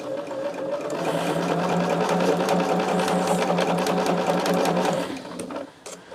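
A sewing machine runs a long base stitch around the edge of a quilt, a loud, steady, rapid chatter for about five seconds before slowing and stopping with a few light clicks; close by, no talk.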